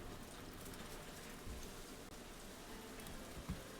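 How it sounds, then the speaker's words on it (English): Rain falling outside an open window, a steady, soft hiss of drops that continues evenly with a few faint patters and thumps. "Now, I enjoy the sound of rain."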